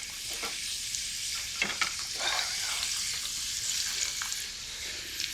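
Courgette pieces deep fry gently in oil at 160 degrees, giving a steady close hiss and crackle of sizzling with occasional stirring clinks.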